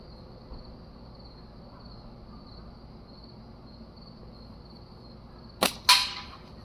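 G10 laminate slingshot shot striking a can outdoors: a sharp bright crack near the end followed quickly by a second ringing metallic impact, over a steady high insect-like hiss and low background rumble.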